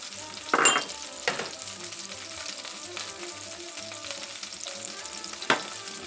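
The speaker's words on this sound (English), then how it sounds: "this butter, okay, I want to add about 1/2 teaspoon of some red chili flakes" Red chili flakes sizzling in melted butter in a pan, a steady soft frying hiss with a few sharper pops and stirring clinks, close and fairly quiet, with no talking.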